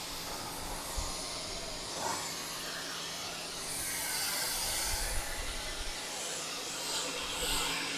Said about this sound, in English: It looks like it's rinsing cleanly.